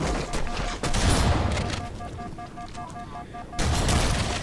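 Shotgun fire in Halo CE, on the Keyes level against the Flood: heavy booming blasts, one near the start and another toward the end, over rumbling battle noise and faint steady game tones.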